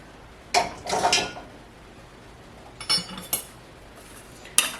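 Cucumber and onion salad is stirred in a slightly too-small bowl, producing a few short bursts of clinking and scraping against the bowl separated by quiet gaps.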